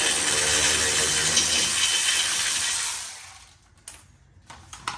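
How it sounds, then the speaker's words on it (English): A hand ratchet spins off the caliper bracket bolts on a 2017 BMW 540i G30, giving a fast, close, continuous clicking buzz that stops after about three seconds, followed by a couple of sharp metallic clanks. "Let's use a regular ratchet to get it off."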